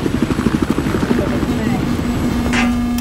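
Hostile helicopter flying overhead in Battlefield 4 on the Golmud Railway conquest map, a steady rotor thump with a droning engine tone holding loud throughout, joined by a brief sharp burst near the end.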